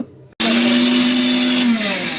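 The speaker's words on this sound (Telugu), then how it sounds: "షుగర్ తీసుకొని మిక్సీ చేసేస్తున్నాం" A kitchen mixer grinder runs at full speed powdering sugar, a loud steady whirring motor drone that starts abruptly after a brief quiet moment and holds nearly constant, with no talking.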